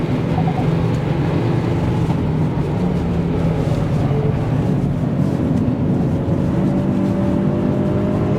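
Hyundai i30 N sedan engine pulling hard on a race track, a loud continuous roar with rising pitch as it accelerates, heard from inside the car.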